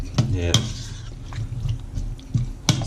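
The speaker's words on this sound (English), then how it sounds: "Now those chilies, and yeah, we'll just mix it in with that fish and that" Chopped chilies being mixed by hand into raw fish in a bowl for Fijian kokoda, a soft wet squelching and stirring with a few sharper clicks, close and quiet.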